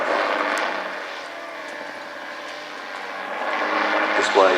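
A gyrocopter flies an airshow display at the Midland Air Festival, its engine droning at a middle distance and swelling slightly toward the end beneath a commentator's talk.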